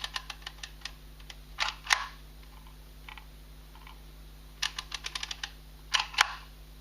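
Handle presses on a Click Click Machine label embosser give sharp mechanical clicks, some single and some in quick bursts of several, spaced by short quiet gaps and close up.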